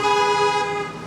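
Car horns toot in a sustained, loud blast from passing traffic at a street protest march, the steady tone holding for about a second before easing off.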